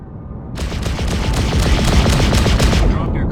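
Spaceship guns in the Freelancer space combat game fire a loud, rapid burst of evenly spaced shots that starts abruptly and continues steadily for nearly three seconds over a deep rumbling bed.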